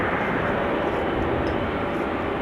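Air Astana Airbus A321neo jet at Amsterdam Schiphol Airport, a steady broadband engine roar at moderate distance, continuous and even throughout.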